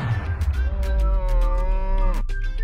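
A cow moos once in a long, loud, drawn-out call that falls in pitch at the end, heard alone and close.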